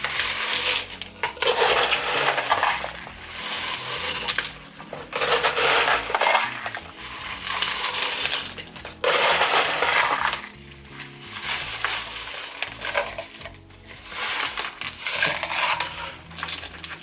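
LECA clay pebbles rattle and clatter as they are poured and handled while repotting a Monstera albo, in repeated loud close bursts of hard crunchy clinking separated by brief pauses, with no talking.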